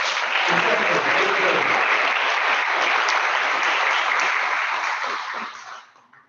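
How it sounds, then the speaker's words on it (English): An audience at a school board of education meeting applauds for about five seconds in a steady, dense burst of clapping that then fades out quickly. "Let's give her a big round of applause"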